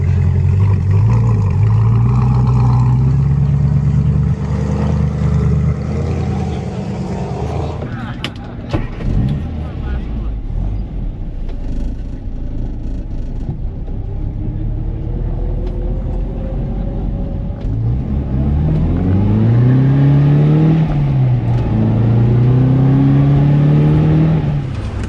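Car engine droning close by as the vehicle drives, rising and falling in pitch with acceleration and gear changes, a steady road rumble underneath.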